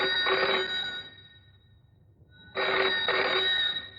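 An old-style telephone bell rings indoors in two bursts, each a bright, rapidly trilling double ring, separated by a short pause of near silence.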